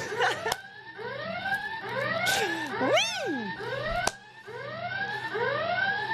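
Secret alarm going off in the Secret Story reality-show house, a loud repeating electronic warble of sweeping rising and falling tones with sharp clicks, while a voice briefly speaks.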